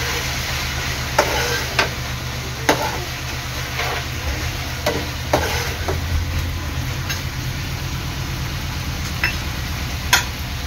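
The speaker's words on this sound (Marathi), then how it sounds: "आता हे सगळं चांगलं मिक्स करून घ्यायचं आहे." A spatula stirs prawn chilli with soy sauce in a pan, a low continuous sizzle and hum broken by occasional sharp taps and scrapes against the metal.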